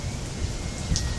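Steady rain hiss with gusty low rumbling of wind, continuous and fairly close, no voices.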